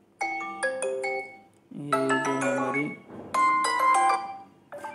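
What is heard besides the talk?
Vivo T1 phone ringtones being previewed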